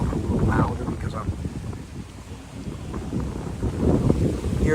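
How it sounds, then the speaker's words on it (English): Gusty wind buffets the microphone beside a lake at T.Y. Park, with water washing against the banks in a continuous low roar that rises and falls. "hearing the wind noise in the background, the water crashing on the banks of this beautiful lake"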